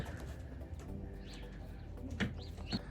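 Racing pigeons being released for the first old-bird race of the season give a couple of soft coos and brief wing flutters against a low, steady outdoor background, with no talking.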